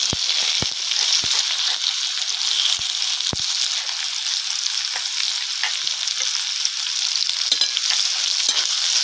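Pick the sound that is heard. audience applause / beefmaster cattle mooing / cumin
cumin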